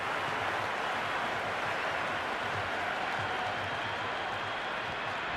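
Steady roar of a cricket stadium crowd in Cricket 26 during an India versus Pakistan T20 match, continuous cheering and applause at an even level throughout.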